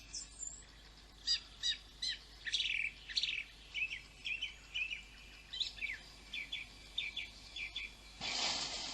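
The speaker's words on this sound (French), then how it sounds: "Ruf écoute une grive musicienne lancer son chant puissant et mélodieux" A song thrush sings a series of bright, repeated phrases at a steady pace, clear and moderately distant against a quiet background.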